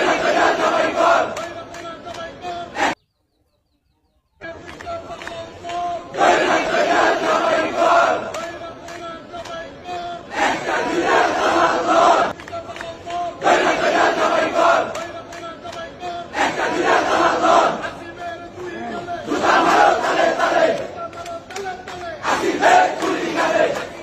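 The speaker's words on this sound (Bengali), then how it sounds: "স্পষ্ট স্লোগান আপনারা একটু শোনেন।" Crowd of supporters at a political rally in Dhaka chanting slogans in loud, rhythmic bursts that repeat every few seconds, with a brief silent gap near the start.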